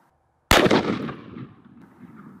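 Armor-piercing 5.56 round fired at ceramic body armor with gel backing, a single sharp, loud outdoor gunshot followed by a decaying rumbling echo.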